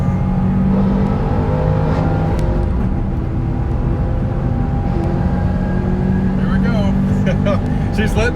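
A Dodge Challenger Scat Pack and a Subaru WRX STI accelerate hard in a third-gear roll race from 50, their engines droning loudly and steadily with rising whine, heard from inside a car under constant road and wind noise.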